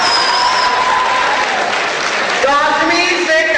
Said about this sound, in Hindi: आपकी तालियों की अनुगुंज इतनी शक्तिशाली हो